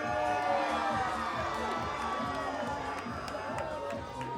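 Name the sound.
wrestling crowd cheering in Thunder Bay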